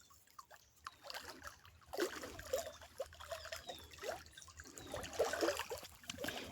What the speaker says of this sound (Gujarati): જો ફૂલ પાણી ચાલુ છે